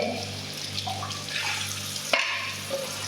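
Tap water runs into a kitchen sink as dishes are washed, a close, steady splashing stream with a few clinks of dishes and one sharper knock partway through.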